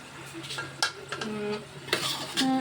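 Meat being stirred in a pot while cooking at home, with scraping and clinks of a utensil against the metal over a light sizzle, a few sharper knocks, and faint voices in the background.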